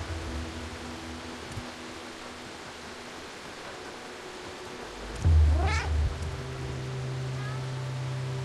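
A black cat in the video game Stray lets out a single rising meow over a quiet ambient background, preceded by a low thump, with faint rustling afterward.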